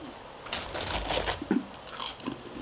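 Someone bites into crispy fries from a beachside burger spot, producing several close, crunchy bites followed by moist chewing sounds, with no talking.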